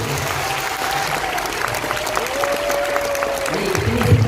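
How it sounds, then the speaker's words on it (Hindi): An audience at an RCM event in Bhilwara applauds steadily, a dense continuous clatter of many hands from a large crowd, with faint voices and sustained tones underneath. "तो एक बार तालियां इसके लिए आपको मिलेंगी।"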